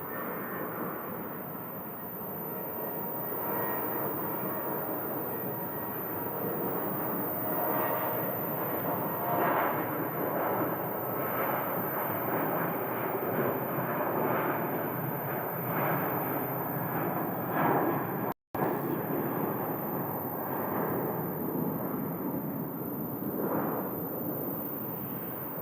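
Boeing 737-700 airliner rolling for takeoff at Phoenix airport, bound for Las Vegas: a steady, far-off jet engine roar that swells gently over about twenty-five seconds with a broad rushing hiss and no voices.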